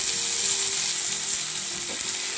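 Finely chopped tomato sautés in a pan for desi-style Maggi noodles, giving a steady, loud, close sizzle that holds evenly from start to finish with no one speaking.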